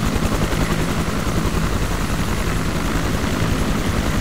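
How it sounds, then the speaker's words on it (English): Helicopters lift off in the ARMA 2 Vietnam mod, a loud, dense, continuous rotor thump and engine roar filling the scene without letup, close and unbroken throughout. "There's choppers away."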